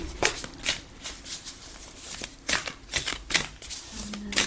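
Playing cards shuffled by hand for a tarot-style card reading, a run of crisp riffling bursts repeating in quick succession, close and fairly loud with no talk.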